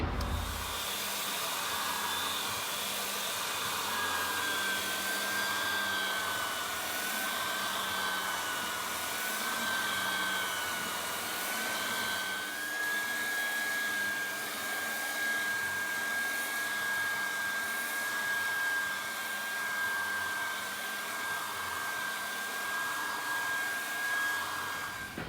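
A floor sander runs continuously with a red heat 80 grit abrasive disc, giving a loud, steady whining roar with a thin high tone riding over it and no pauses.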